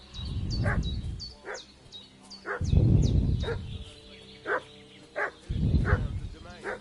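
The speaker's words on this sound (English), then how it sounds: "Why is that dog barking, man?" A dog barks repeatedly in Kingdom Come: Deliverance 2, with several loud, close woofs coming in irregular bursts, while someone talks between and over them.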